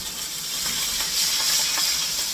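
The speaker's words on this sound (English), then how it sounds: "This is where things are going to get a little sizzly" A steady, hissing sizzle crackles close up, continuous and fairly loud: chili oil spitting in a hot pan.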